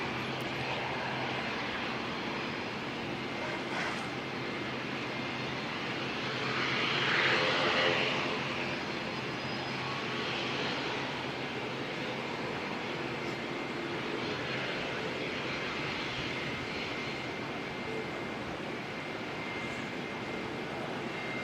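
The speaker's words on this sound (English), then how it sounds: "The Air Chatham's ATR heading off down to Wanganui." Air Chathams ATR turboprop airliner departing Auckland Airport, a steady broadband engine roar that swells briefly in the middle and carries on at a fairly even, moderate distance without talk.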